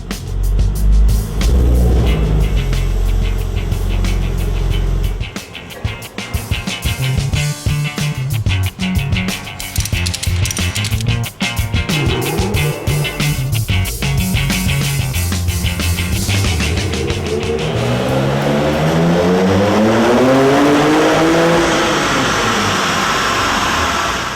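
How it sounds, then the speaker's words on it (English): A Ruf Porsche engine runs hard on a dynamometer in a test room, a loud, continuous roar that climbs through sustained high revs, then sweeps up and down toward the end. "comes to our dyno room and is being tested in the dynamometer"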